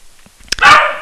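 Dog barking indoors: a single short, sharp bark close by after a brief faint sound, with no talking.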